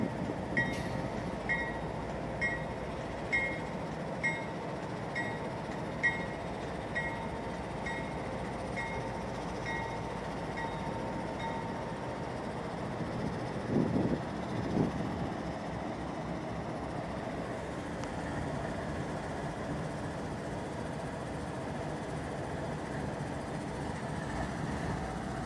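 CSX freight locomotives pull slowly up near a rail junction in Pittsfield, Massachusetts, with a steady low engine rumble and faint rolling noise held at a moderate distance throughout. A few soft periodic clanks rise above it.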